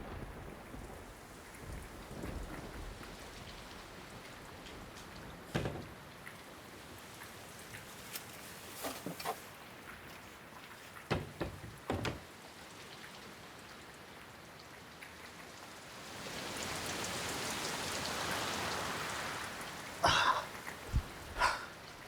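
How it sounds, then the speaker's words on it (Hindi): Steady rain falls outside, with a few sharp drops or knocks punctuating it and a heavier downpour swelling near the end. "इतनी तेज बारिश हो रही है बाहर"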